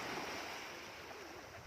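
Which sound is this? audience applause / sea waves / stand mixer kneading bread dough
sea waves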